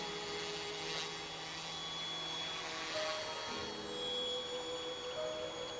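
A radio-controlled helicopter flies with a steady whining, whirring drone, a continuous even buzz of motor and rotor that holds at a constant level for several seconds with slight swells.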